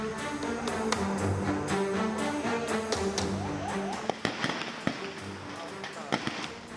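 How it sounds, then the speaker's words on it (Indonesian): Firecrackers pop and crack in irregular bursts as a firecracker kiosk burns in Makale, Tana Toraja, Sulawesi, over roaring flames and crowd noise, some sharp bangs standing out near the end. "Saat api menyala terjadi beberapa kali ledakan petasan."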